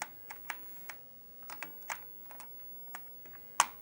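Sparse keystrokes on a computer keyboard, irregular taps spaced a fraction of a second apart, quiet and close, ending with one sharper, louder key press.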